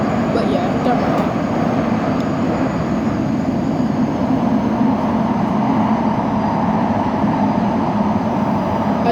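Elizabeth line train running from Canary Wharf to Abbey Wood, heard from inside the carriage as a steady loud rumble and roar of wheels on track with no breaks, with a voice talking over it at times.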